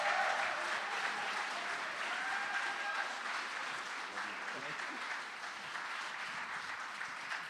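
Steady applause from a comedy audience welcoming comedian Steve Patterson to the stage, sustained and even across the whole stretch, with a few faint cheers and whistles mixed in.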